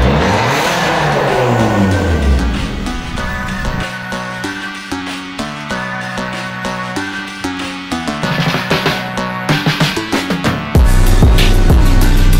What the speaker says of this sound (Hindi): ये कुछ गाड़ी थी अपनी सिद्धार्थ भाई की स्विफ्ट VXI